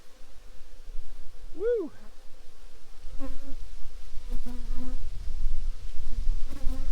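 Honey bees buzz from an opened, heavy double deep brood box full of self-built comb, a steady close drone with individual bees whining past, while a person gives a brief cheerful exclamation.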